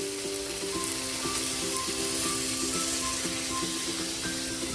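Water splashes into a hot pan as sinigang-style home cooking sizzles, a steady loud frying hiss with faint stirring clinks throughout, no voices.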